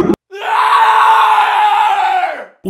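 One long, sustained video game creature scream voiced by a person, harsh and strained, holds steady for about two seconds before tapering off, loud and close.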